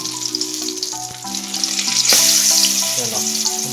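Oil sizzles steadily in a pan of stuffed bananas frying, with a constant tonal hum underneath and a brief louder crackle midway.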